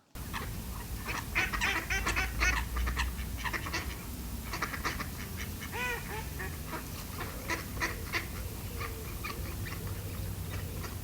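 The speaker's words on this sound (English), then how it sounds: "just let you hear if the ducks are making a noise loud enough" Ducks calling at Samphire Hoe near Dover, a busy chorus of quacks and honks from several birds, loudest in the first few seconds and then steady, with no talking over them.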